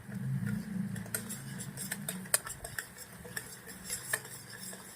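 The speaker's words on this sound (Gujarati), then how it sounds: "ખાંડને આપણે આવી રીતે હલાવતું રહેવાનું છે તાવીથી" Sugar syrup being stirred in a pan with a ladle, with scattered metallic scrapes and light clinks over a low simmering murmur, close and moderately quiet.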